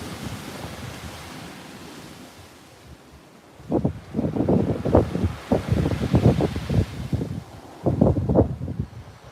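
Wind buffets an outdoor sea-fishing spot at night, a low continuous rush that swells into strong gusty blasts on the microphone, with no voices heard.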